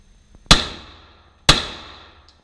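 Two pistol shots ring out at an indoor shooting range, about a second apart; each is a sharp, loud crack with a reverberant tail decaying in the enclosed space.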